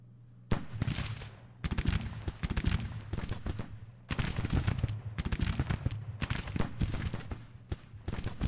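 Mississippi rifles firing in Grand Tactician: The Civil War, rendered as repeated bursts of crackling musketry, ragged volleys that come in waves over a steady low battle rumble, fairly loud and continuous throughout.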